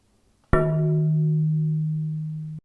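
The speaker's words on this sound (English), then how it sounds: "That's quite a nice gong sound." One deep strike from a slowed-down metal plate sample blooms into a low, humming gong-like tone that sustains steadily for about two seconds before stopping abruptly.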